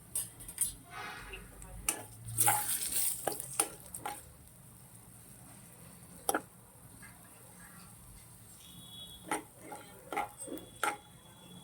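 Ingredients for a cucumber-tomato chutney frying over a low stove flame, stirred with a spoon that clicks and scrapes against the pan in irregular bursts over a faint background hiss.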